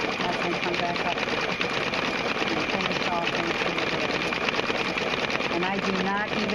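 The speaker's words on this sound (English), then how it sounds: "So I'm going to let it go ahead and stitch the letters in." A Brother Quattro II embroidery machine stitches letters, a steady fast mechanical whirring that runs throughout, with a faint voice speaking occasionally underneath.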